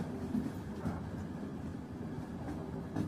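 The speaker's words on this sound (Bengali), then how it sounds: "রাত্রির অন্ধকারে হু হু শব্দ করে ট্রেন ছুটে চলেছে।" A passenger train with sleeper berths rushes through the night. Its continuous low rumble carries soft rhythmic rattles and clacks of the carriages, steady and enveloping.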